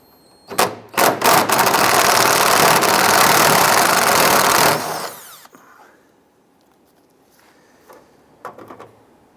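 A power tool loosens and removes the 8mm nuts along the top of the grille on a 2002-2008 Dodge Ram. A loud, steady whirring runs for about four seconds, followed by quieter clicks and handling noises.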